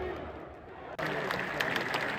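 Crowd at a live wrestling event applauding and cheering, a dense broadband roar that swells suddenly partway through and stays loud and steady to the end.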